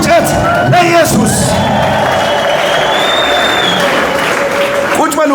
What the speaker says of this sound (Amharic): እልልታ፣ ጭብጨባ፣ ጩኸት፣ ፉጨት ለኢየሱስ